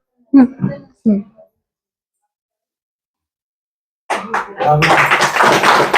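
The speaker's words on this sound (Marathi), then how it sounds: "एकदा जोरदार टाळ्या वाजवायचं" Audience applause at a women's prize-giving game show in Jalna, rising suddenly after a pause and swelling into loud, sustained clapping, with two short spoken phrases before it.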